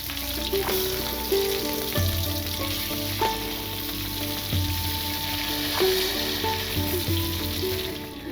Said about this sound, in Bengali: এবার কড়াইতে আরও একটুখানি তেল দিয়ে আমার কাছে যে বড় সাইজের চিংড়িগুলো ছিল সেগুলোও আমি ভেজে নেব